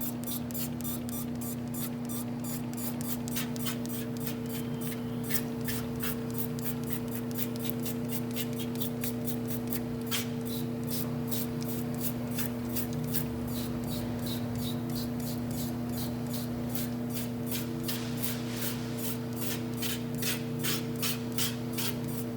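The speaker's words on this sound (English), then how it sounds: "ice machine cleaner, spray it up good, and hope for the best" Cleaner is sprayed onto a Hoshizaki ice machine and the surfaces are scrubbed with small brushes, giving a quiet run of quick repeated spray hisses and brushing strokes over the steady hum of the machine, with no talk.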